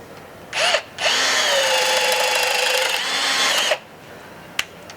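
Milwaukee M18 cordless drill with a 5.0 battery boring a 7/8 hole, a steady loud whine that runs about three seconds after a brief opening burst, then stops, leaving a short click.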